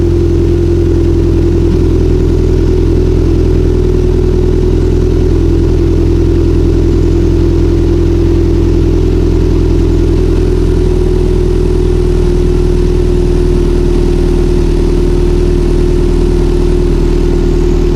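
A loud, steady engine idle rumbles continuously up close from a 2008–2014 Subaru WRX/STI with a Milltek exhaust and HKS equal-length manifold after a cold start, a deep throbbing drone with no talking and little change throughout.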